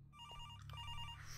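A phone in the video game Araya rings with a bright electronic trill in two short bursts over a low droning ambience, faint and alone.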